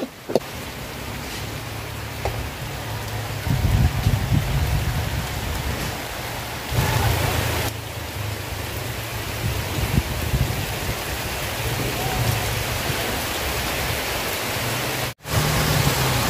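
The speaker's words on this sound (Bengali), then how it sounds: "কি পরিমাণ আকাশ অন্ধকার হয়ে বৃষ্টি নামছে দেখেন।" Heavy rain pours down steadily on a dark, stormy day, a dense, loud, continuous hiss close by with no voices over it.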